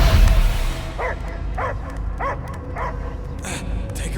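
A dog in Marvel's Guardians of the Galaxy video game gives about five short, evenly spaced barks over a steady low background rumble, with no one talking.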